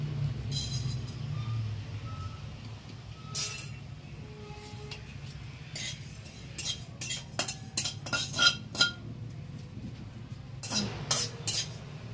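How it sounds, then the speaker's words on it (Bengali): Whole cumin seeds dry roasting rattle and scrape in a metal pan, with irregular clinks of a utensil stirring over a steady low hum. "এবার খালি খোলায় কিছুটা গোটা জিরে ভেজে নেব।"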